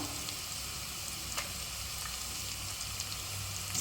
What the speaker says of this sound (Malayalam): ഇതൊന്ന് ഇളക്കി മൂപ്പിക്കാം